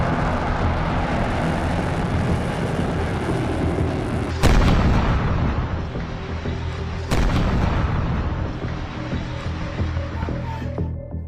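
Explosions and artillery fire near the Bushehr nuclear plant in Iran. Two heavy, sharp booms strike a few seconds apart over a continuous low rumble of distant firing.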